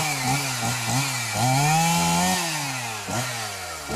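Chainsaw run by a forest brigade clearing pine woodland, a loud, close engine whine that rises and falls steadily with cutting load throughout.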